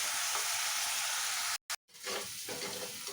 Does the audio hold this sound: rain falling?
no